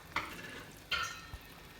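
Chopped okra stirred in a frying pan, with two brief scraping, sizzling strokes about a second apart over a soft, steady background hiss.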